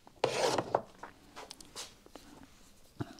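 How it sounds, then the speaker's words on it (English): A fine chisel pares excess glass bedding compound off an M1A or Garand rifle stock, making a few short scraping rubs, loudest at first, then lighter strokes and a final quick scrape. "I'll trim that off with a fine chisel."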